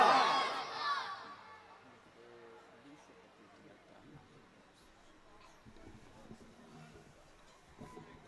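A crowd at an Urs religious gathering in Bharatganj shouts back in unison in response to an Islamic slogan call, a loud massed burst in the opening second that fades into a murmuring hall with scattered voices.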